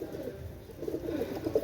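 Pigeons kept for sale coo softly nearby, low throaty rolling calls that come in short bursts and grow busier toward the end, faint and without talk.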